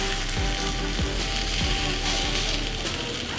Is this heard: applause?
no